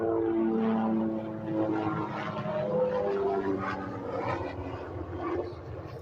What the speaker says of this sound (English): What do we got, a helicopter?